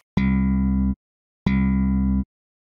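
Two slapped bass notes passed through a compressor set to a 1 ms attack, each with a bright snappy onset and an even, flattened sustain, separated by a short silence and heard alone.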